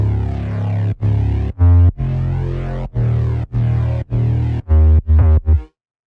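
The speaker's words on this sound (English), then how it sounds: "The bass sounds like this." A synth bass made in Massive, layered with a compressed sine-wave sub bass, plays a pulsing riff of about a dozen deep, buzzy notes in a choppy rhythm, loud and alone, then stops.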